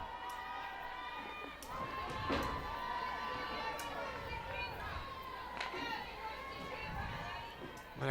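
A lively crowd at a college softball game on youth night, with children's shouts and cheers rising over a steady hum of chatter and movement, and voices talking throughout.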